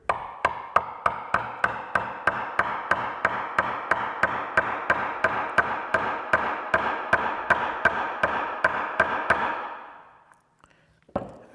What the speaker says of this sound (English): I can use it to chop the ends.